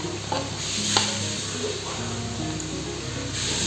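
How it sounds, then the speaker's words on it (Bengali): Fried pointed gourd pieces are stirred into boiling masala in a pan, giving a steady bubbling sizzle with scraping spoon strokes and a few knocks, close and continuous. "জল ফুটে গেছে, এখন আমি দিয়ে দিচ্ছি ভাজা পটলগুলোকে"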